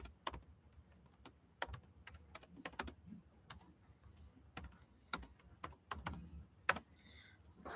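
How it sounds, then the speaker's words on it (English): Someone types on a computer keyboard, producing quiet, irregular clusters of sharp key clicks close by in a still room. "Let me get it typed in."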